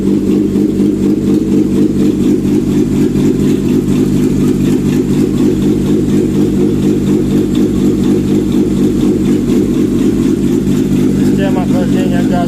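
A 1988 Nissan Bluebird U11 CA16S carbureted four-cylinder runs steadily on a test stand, a constant loud mid-pitched drone at even speed, with someone speaking over it.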